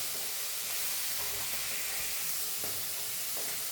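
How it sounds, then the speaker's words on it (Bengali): Green peas frying in a wok for a poha snack, giving a steady, close sizzle with faint stirring scrapes throughout and no talk. "এবার মটরটা একটু তোমার ভেজে নেব"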